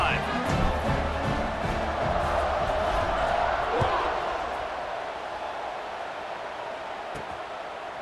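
A football stadium crowd roars at a kickoff in a broad, sustained wash of cheering that stays loud and dense, easing slightly toward the end, with faint thumps within it.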